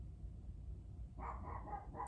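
A single dog barks several times in a short, quick burst, heard faintly from another room over a low indoor hum after a second of near quiet.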